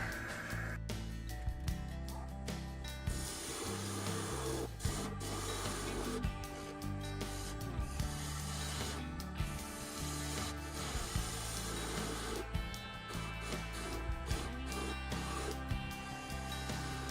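Wood lathe turning a cherry and walnut vessel at 1000 RPM with a spindle gouge, a faint continuous scraping and rasping with repeated brief cutting bursts over a low steady hum.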